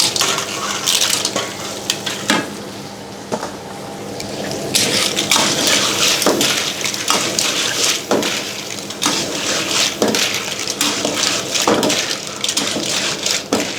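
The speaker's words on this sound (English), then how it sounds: "Then you put all the baby clam in there." Baby clams tossed into a pan for a chili-paste stir-fry, giving a loud, continuous wet sizzle broken by repeated stirring scrapes and clatters, close by, with no one speaking.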